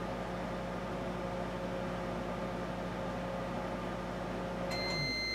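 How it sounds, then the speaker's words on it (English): A running microwave oven hums steadily at close range with a constant drone, then shuts off near the end with a short falling tone and a few electronic beeps. "the microwave is about to shut off"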